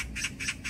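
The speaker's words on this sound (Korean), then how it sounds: "아침부터 까치가 울기 시작하니 아이고 수영아 오늘은 귀한 손님이 오시려나 보다." A magpie calls in the morning, three quick harsh chattering squawks in an even rhythm, moderately near and fairly faint against a quiet background.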